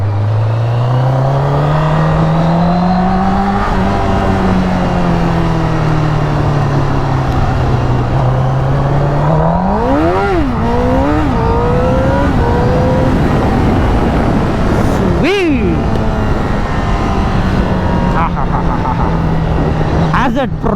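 A Honda CBR Fireblade 1000 superbike revs loudly up and down through the gears on a ride, engine pitch climbing and falling with throttle blips and shifts, while a rider talks over it.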